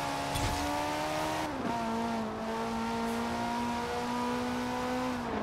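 Audi RS6 engine in the racing video game Forza Horizon 4, a steady sustained drone with a brief pitch dip as the revs shift, holding at a constant level with no talking.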